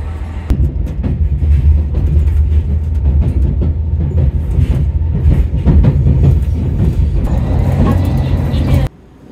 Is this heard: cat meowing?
no